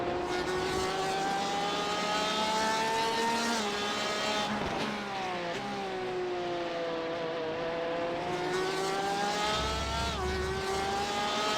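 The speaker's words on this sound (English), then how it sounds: "Now the Ferrari is really trying to get by the Porsche." A Ferrari and a Porsche in a GT race at Motegi, engines screaming close together with rising and falling pitch as they shift gears, loud and continuous.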